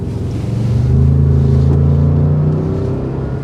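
A new Lincoln Navigator accelerates smoothly on the road, a low, steady engine drone rising gently beneath rushing road and wind noise, heard from inside the cabin with no talking.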